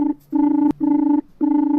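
A phone call to an AC installer rings out as a repeating ringback tone, with three steady buzzing pulses separated by short gaps, loud and close, with no talking.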